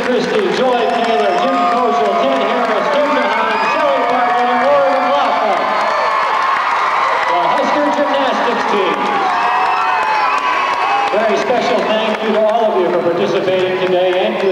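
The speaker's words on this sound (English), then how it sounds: "How about a round of applause for Jason Christie," At a 1996 school gymnastics demonstration in a gym, a crowd cheers and shouts loudly with scattered clapping mixed in. Many voices rise and fall across the whole stretch.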